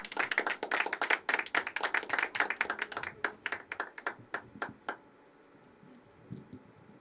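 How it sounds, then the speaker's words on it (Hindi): Audience at a poetry open mic breaks into clapping that starts dense and lively, then thins to scattered individual claps before fading out; close, small-room sound with no talk. "तो जोरदार तालियां"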